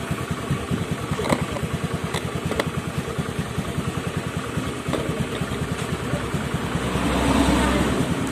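Engine of a Honda Beat fuel-injected motorcycle held at around 3000 rpm, a close, steady pulsing putter that swells slightly near the end.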